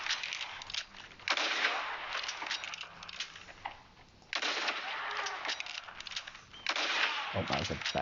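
Gunshots in the Red Dead Redemption 2 video game while hunting animals: three loud, close bursts of fire with game ambience between them and no talk.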